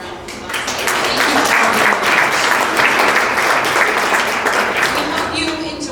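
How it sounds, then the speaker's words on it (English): Audience applause at a children's museum fundraising campaign event, a loud, dense roar of clapping that swells within the first second, holds steady, and tapers slightly at the end. "So one more round of applause."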